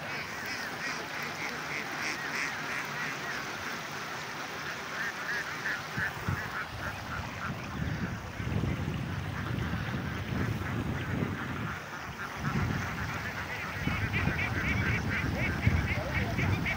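A large flock of domestic ducks herded through a rice field quacks continuously in a dense, overlapping chorus, with louder honking bursts rising toward the end.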